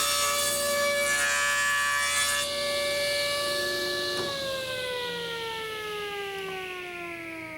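A woodworking power saw on a crosscut jig cuts the cheek of a wood joint in a single pass, its loud close motor whine holding steady and then dropping in pitch as the blade takes the load.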